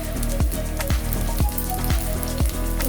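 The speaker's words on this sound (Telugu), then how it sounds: "తీసుకుని ఇందాక మనం చూపించిన పోపు అంతా వేసుకోవాలి" Steady sizzle of tempering spices frying in hot oil for a bitter gourd and jaggery curry, a dense continuous crackle with a few sharper pops, close and loud, no talk.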